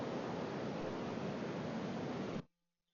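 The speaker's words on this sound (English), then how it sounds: "I'm going to pull ambient ocean audio to audio 2 track right there." Ambient ocean surf track, a dense, steady wash of broadband noise that holds evenly, then cuts off abruptly to near silence.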